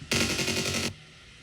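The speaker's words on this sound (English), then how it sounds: "and then here's the sound of the guns." A loud, rapid burst of video-game machine-gun fire from a SimplePlanes aircraft build, lasting under a second, then it cuts off abruptly.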